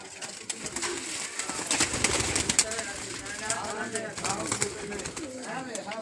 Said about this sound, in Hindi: और इसके अलावा आपका बिल्लू भाई जो अच्छा ब्रीडर कबूतर है वो दिखाएं।